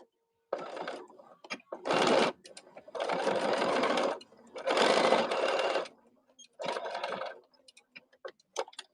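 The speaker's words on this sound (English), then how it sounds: "I'm going to sew the ends of the cuff together" Sewing machine stitching the ends of a fabric cuff at a quarter-inch seam for a scrap pin cushion project. Several close whirring bursts of rapid stitching, separated by short pauses.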